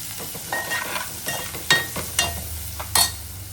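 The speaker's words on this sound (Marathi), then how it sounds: "पुन्हा एकदा छान असा मिक्स करून घ्यायचा बघा." A spoon scrapes and stirs okra and chilli fry with salt in a hot pan, giving a few crisp scraping strokes over a low sizzle; it is close, fairly quiet, and no one speaks.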